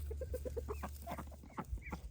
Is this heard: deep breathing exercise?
no